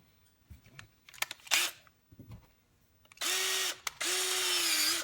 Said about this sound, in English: I just got a regular handheld drill